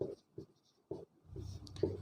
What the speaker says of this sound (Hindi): तो सिंपली हम लिखेंगे कि